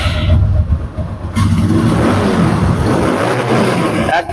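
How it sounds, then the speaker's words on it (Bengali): A motorcycle with an original, untouched engine revs loudly at close range, with a short burst followed by a longer sustained roar, no voices. "বাইকটা তো সাউন্ড কোয়ালিটি দেখায়"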